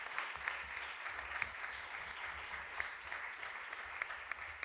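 Steady applause from an audience at a regional junior science and maths quiz contest in the Ashanti Region, a dense, even wash of many hands clapping, heard at a moderate distance with no voices over it.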